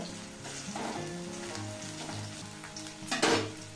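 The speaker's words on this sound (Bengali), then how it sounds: "পেঁয়াজটা ভালো করে ভেজে নেব।" Onion frying in oil in a hot wok gives a soft, continuous sizzle, with stirring scrapes and a brief louder burst of hissing near the end, close by and alone.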